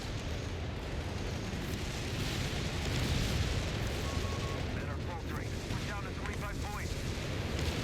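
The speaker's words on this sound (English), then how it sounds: "More shots coming in from a whiz bang." Whizbang rocket artillery barrage in Company of Heroes 3 on the Monte Cavo 4v4 map, a continuous loud roar of rocket shots and impacts with crackling bursts, overlaid by a caster talking throughout.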